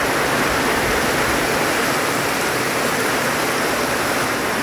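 Steady, loud rain pours down onto plants outdoors, a dense unbroken hiss of falling water with no pauses.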